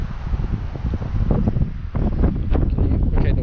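Wind buffets the microphone at a pond during fishing, a rough low rumble rising and falling in gusts throughout.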